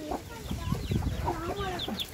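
Young chicks clucking and cheeping while feeding on ragi and nutritious flour mix, a busy overlapping chorus of short high peeps and soft clucks, close and continuous with no talking.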